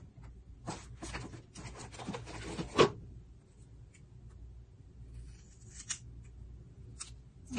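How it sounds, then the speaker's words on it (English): Scissors snip through synthetic wig hair in a few close, crisp cuts, with a sharp louder chop, then quiet pauses and fainter trims and rustling. "Cut it straight across."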